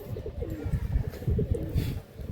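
Pigeon in a loft cooing while held in the hand, a close series of soft, throaty coos repeating in quick pulses.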